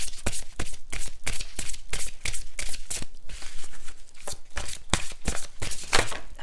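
A deck of oracle cards is shuffled by hand in rapid, steady riffling bursts, close and fairly loud, with no voice over it.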